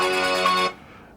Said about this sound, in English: my phone will always ring